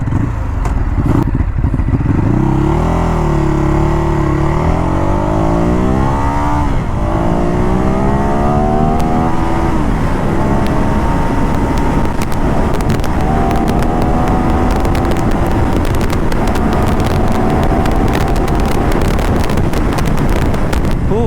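A Ducati Hyperstrada 939 motorcycle engine revs hard in sport mode and climbs through the gears, rising pitch sweeps repeating as it accelerates, with steady wind rush over the microphone throughout.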